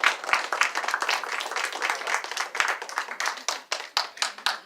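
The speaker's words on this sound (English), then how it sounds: "Let's give him another round of applause." Audience clapping and applauding at an open mic night held at a Barnes & Noble bookstore, a steady patter of many hands for several seconds with a few sharper claps, no talk.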